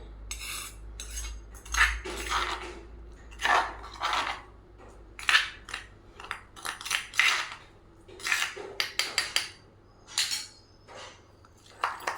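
Brinjal chutney ground in a small stone mortar with tomato: rhythmic, close scraping and crunching strokes of stone on stone, repeated in bursts with brief pauses, with no speech.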